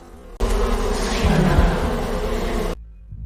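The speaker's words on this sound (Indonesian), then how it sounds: "sekawanan lebah menyelimuti jendela" A dense swarm of bees buzzes loudly and continuously for a couple of seconds, then cuts off abruptly into near silence.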